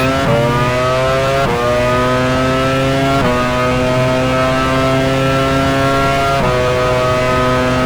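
A Formula 1 car in the F1 Challenge 99-02 game at Hockenheim, pulling into the pits: a loud, sustained engine whine holding a steady pitch, broken by several brief downshift blips.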